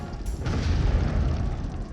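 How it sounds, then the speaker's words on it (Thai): A volcano erupts in a cartoon, opening with a deep boom that rolls into a sustained, heavy low rumble, loud and close, with no voices over it. "ภูเขาไฟระเบิดของจริงเลยล่ะ"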